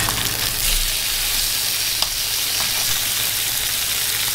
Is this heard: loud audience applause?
no